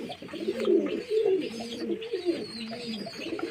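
Madras pigeons coo in soft, throaty rolling bursts, several overlapping calls repeating steadily at close range with no voices.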